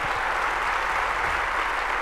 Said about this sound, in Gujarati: અમે કેવા તાળીઓ પાડીએ છીએ